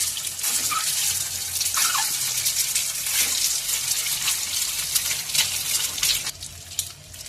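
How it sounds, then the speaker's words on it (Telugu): Eggs dropped into heated oil in a pan, a sustained loud, broadband frying sizzle and crackle that runs steadily throughout with no talk. "ఆయిల్ వేడెక్కింది, గుడ్లు వేసుకుందామండి."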